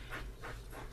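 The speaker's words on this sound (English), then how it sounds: "Do you ever hear that scratching noise? That's my dog. He scratches his spot that he's going to lay" A dog scratches at a couch cushion to make its lying spot, giving three rhythmic, raspy strokes close by at low volume with no talking.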